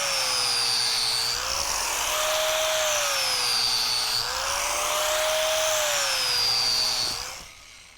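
A four-inch concrete grinder fitted with a wider crack chaser blade cuts into concrete, giving a loud, steady high whine that dips and rises in pitch as the blade loads, then cuts off near the end. No one speaks.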